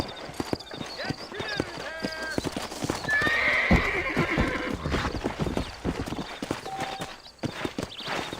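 Horse hooves clip-clop at a gallop, a loud whinny rising midway, in the Western video game Red Dead Redemption, with a voice speaking over the action.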